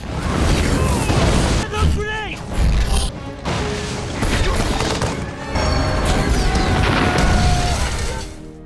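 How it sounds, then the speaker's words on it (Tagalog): An ammunition depot blows up in a Captain America war movie scene: heavy booms and crashing blasts roll one after another over a dense, loud rumble, with a voice speaking over part of it. "sumabog ang ammunition depot sa naglalagablab na apoy"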